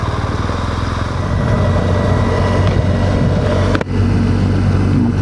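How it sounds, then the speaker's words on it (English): A motorcycle underway, with a loud, close engine drone and heavy buffeting wind rushing around the fairing. A brief dip comes near the end before the roar resumes. "there's a lot of noise coming up around this fairing, which is not ideal for audio"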